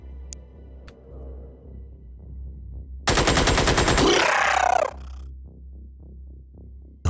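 Rapid automatic gunfire in Xenonauts, a loud burst of dense rattling shots lasting about two seconds amid quieter game background sounds.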